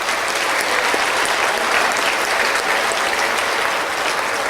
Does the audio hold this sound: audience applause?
yes